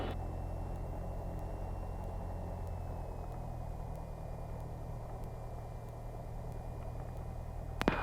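A Cessna 172 idles and taxis at Olds airfield, its steady low engine rumble constant and close throughout, with a faint propeller whine above it and a brief knock right at the end.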